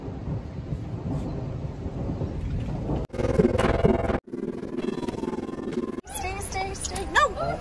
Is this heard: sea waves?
no